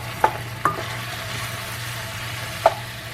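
Taco spaghetti sauce with onions sizzles softly in a pan under a low steady hum. A spoon scrapes and knocks against the pan a few times while it is stirred. No voices.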